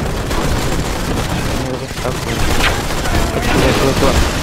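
Sustained gunfire from the mobile shooter Modern Combat 5, a steady, dense volley of shots running through the whole stretch, with a player's voice talking over the action.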